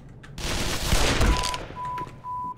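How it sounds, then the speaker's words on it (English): Gunfire in Black Mesa: Xen, the Half-Life remake, in the Surface Tension chapter: a loud, dense burst of overlapping shots for about a second. Afterwards come steady electronic beeps from the game. "he thinks he can shoot me through this"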